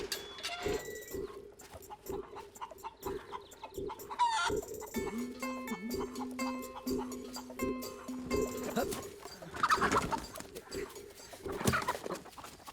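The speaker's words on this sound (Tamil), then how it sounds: "ஆமா அப்பவே சொன்னல கோழியை தேடி தான் வந்திருக்கோன்னு." Chickens cluck and a rooster crows repeatedly nearby, with fowl calls scattered throughout and people talking over parts of it.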